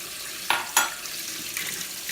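Water from a kitchen tap splashes over lentils rinsed in a sink, a short steady gush with two brief louder splashes near the start, close and alone.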